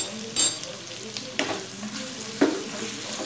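Spiced masala with a half spoon of homemade biryani masala frying in a pan, a steady sizzle broken by three sharp scraping stirs of the spoon, close and clear, with no talk.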